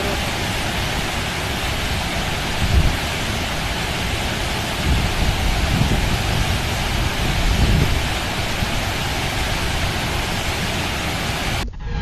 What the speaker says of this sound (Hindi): वाटरफॉल अपनी पूरी खूबसूरती के साथ बह रहा है।